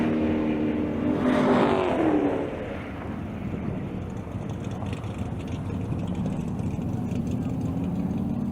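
Drag race cars accelerate down a quarter-mile strip as a loud roaring engine climbs in pitch and sweeps past, then drops into a steady rumble of other engines at the track.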